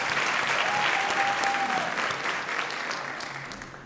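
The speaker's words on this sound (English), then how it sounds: "All right, let's give them one more round of applause." An audience applauding the Dutchtown Elementary Chorus at a school staff awards ceremony, sustained clapping from a sizable crowd that tapers slightly toward the end.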